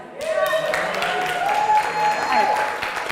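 Audience claps for a live band, a steady round of applause under someone talking over it, lasting throughout at a moderate, even level.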